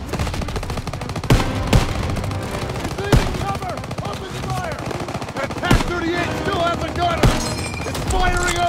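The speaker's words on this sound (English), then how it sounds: "Everyone open fire!" Call of Duty WWII combat against Pak 38 operators, with rapid machine-gun bursts and single sharp shots firing throughout, loud and close, layered over shouting voices and battlefield din.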